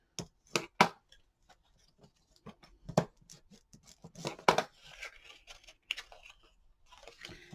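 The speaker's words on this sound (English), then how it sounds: "now I'm just going to fold it on all the score lines, or burnish them in" Paper being folded and burnished along score lines while making a craft box: close, dry crinkles, taps and scraping rubs, sparse at first and then denser and more continuous, with no talking.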